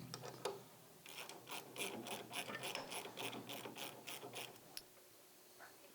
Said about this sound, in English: you're going to remove your brake caliper with these two bolts here